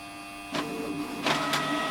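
A Canon TR4520 printer pulls in and feeds pages while printing, a close electric whirring hum with two louder mechanical surges of paper feed and rollers, no voices.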